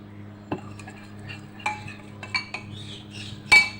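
A metal spoon mixes green food colour into chitoi pitha batter in a bowl, giving a handful of sharp clinks and scrapes spaced irregularly over a quiet background hum, close by.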